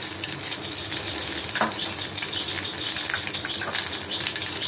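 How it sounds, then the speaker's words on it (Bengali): Whole cumin seeds crackling in a little hot oil in a kadai after fish frying, a soft continuous sizzle with faint scattered pops and a brief clink. "তবে একটু গোটা জিরে দেবো,"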